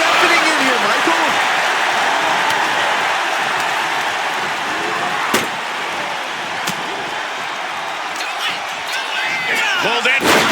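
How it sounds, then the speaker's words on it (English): A dense, roaring crowd fills a wrestling arena during a SmackDown hardcore match, cheering steadily with occasional sharp slams, and a commentator talks over the noise. "And listen to this place. It's deafening in here, Michael."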